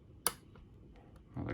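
A sharp, close single click rings out as a pin sets while an Illinois Duo Cam lock is picked, followed by faint small ticks and a soft rustle at the end.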